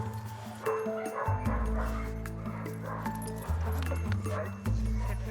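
A dominant female Rottweiler growls and snaps at another dog, low rumbling vocalizations and short barks close by, rising in bursts over a steady low background.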